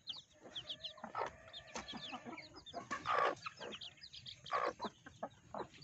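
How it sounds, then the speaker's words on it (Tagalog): Four-day-old chicks hatched from a small clutch of eggs peep in a near, busy chorus, with rapid high chirps overlapping amid some lower hen-like clucking and occasional soft thumps. "Ang ganda po ng mga sisiw natin."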